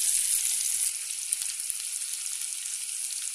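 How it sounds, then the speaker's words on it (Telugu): Onions frying in a pan for a carrot dish give a steady, close sizzle that crackles throughout, with no voices. "అలాగే ఉల్లిపాయలు. సో ఇవి కొంచెం వేగాలన్నమాట"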